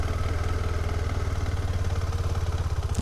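A KTM 390 Adventure motorcycle engine runs at low revs close by, a steady throbbing pulse with a faint mechanical clatter, with no voices.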